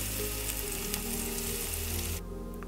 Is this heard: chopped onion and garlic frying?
yes